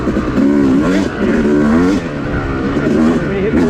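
A YZ dirt bike engine on an off-road trail climbs and swoops in pitch as it revs hard at full throttle, loud and close, with a voice partly over it.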